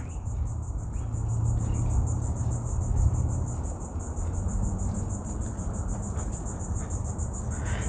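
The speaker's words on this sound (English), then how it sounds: "if you hear that loud clicking sound, that's a cicada" A cicada's loud clicking, buzzing call rings steadily through a mangrove nature trail, a constant shrill drone over low rumbling background noise with no pauses.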